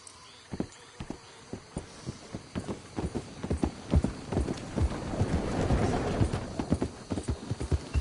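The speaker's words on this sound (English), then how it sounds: "Hope I never have to be on that horse again, dang animals." Horse hooves clop on hard ground in Red Dead Redemption 2, starting as spaced single strikes, then speeding into a denser, quicker gallop that grows louder.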